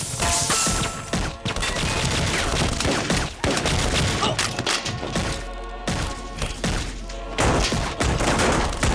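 Dense, continuous gunfire from an action movie shootout, with overlapping rapid shots, crashes and thuds filling the whole stretch loud and close.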